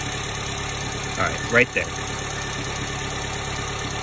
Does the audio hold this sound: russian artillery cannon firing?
no